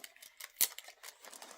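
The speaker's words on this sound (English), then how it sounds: "so hopefully I can cut with scissors" Scissors snip through the foil wrapper on a Dollar Tree candy cane: one sharp, bright cut stands out amid light rustling crinkles, close and fairly quiet, with no voices.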